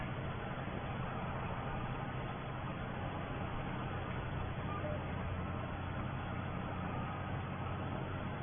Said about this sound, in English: Means now this tractor's doing a bit more work.